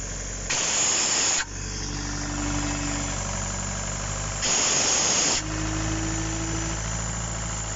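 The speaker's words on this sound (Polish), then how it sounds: "Odkręcimy zawór, momentalnie wejdzie na obroty i będzie pracować." A medium engine idles steadily and runs up to speed, with two loud, brief bursts of hissing rush over its continuous low hum.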